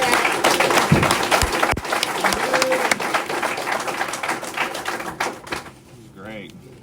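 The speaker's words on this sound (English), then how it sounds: "Let's give him another round of applause" A room of attendees at an Alcoholics Anonymous meeting claps for a speaker, a loud, ragged round of applause that tapers off toward the end as a voice begins talking over it.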